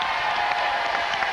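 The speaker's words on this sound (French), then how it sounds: "applaudissements pour l'éléphant." A TV studio audience applauds for a performing elephant on a French game show, a dense, loud, even wall of clapping with no break.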